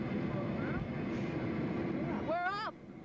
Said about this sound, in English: The front end of the plane is about to go up.